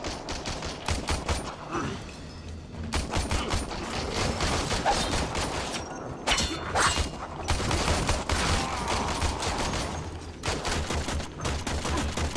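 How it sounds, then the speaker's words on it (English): Handgun fire in the sci-fi shooter Warframe, with repeated sharp shots in irregular bursts over a steady game soundscape, loud and close throughout. "Let me try the handgun now."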